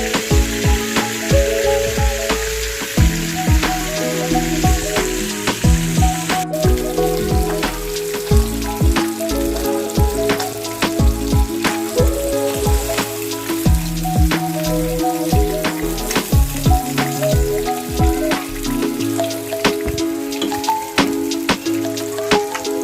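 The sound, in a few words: fish pieces frying in hot oil for fish kofta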